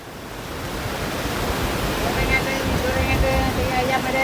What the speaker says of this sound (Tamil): சரியான காற்றாக இருக்குது அலையும் ரொம்ப பயங்கரமாக இருக்குது